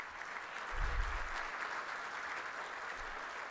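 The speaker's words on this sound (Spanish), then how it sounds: "Los despedimos con un fuerte aplauso." An audience at an international security and defense symposium applauds the speakers, a continuous soft patter of many hands clapping from a moderate distance, with a brief low thump early on.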